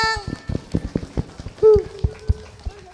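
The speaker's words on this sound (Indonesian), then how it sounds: "Ayo tepuk tangannya." Children at a Quran school graduation ceremony in Tegal clapping hands together, a quick rhythmic patter of many sharp claps close by, with a brief voice breaking in partway through.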